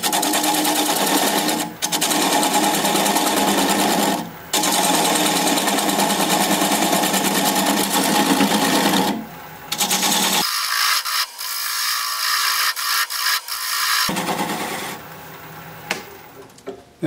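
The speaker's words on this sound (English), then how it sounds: "Gonna grab a 3/8 inch bowl gouge and commence to removing that tenon" A wood lathe runs at about 550 RPM while a 3/8 inch bowl gouge cuts away a tenon, giving a steady loud scraping, rasping hiss that breaks off briefly several times.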